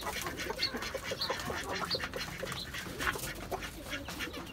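Ducks kept on a rooftop poultry setup quack repeatedly in a steady, busy chatter, close and fairly loud, with no voices over them.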